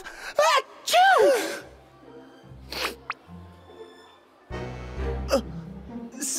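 A cartoon character sneezes from a feather allergy, a sharp burst after short breathy intakes, followed by brief squeaky vocal sounds and a few quiet thumps and rustles.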